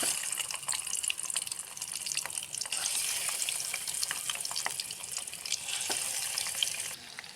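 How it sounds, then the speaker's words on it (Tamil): Eggs fry in hot oil in a pan with a soft, steady sizzle and occasional crackles and pops, heard close up without any talk. "இப்போ ஒவ்வொரு பீஸாக எக்கை போட்டுக்க வேண்டியதுதான்"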